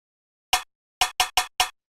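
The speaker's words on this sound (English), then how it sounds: "And all it is it's this rim shot sample." A dry rim shot drum sample played alone: one sharp click, a pause, then four quick evenly spaced hits, each short and crisp with fast decay.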